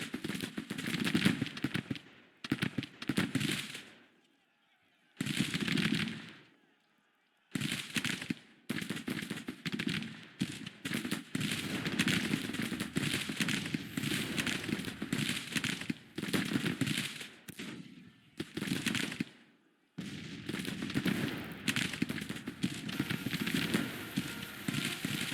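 Gunfire crackles almost nonstop in Grand Tactician: The Civil War as militia units exchange volleys, a dense rattle of distant musketry in bursts broken by a few short silences.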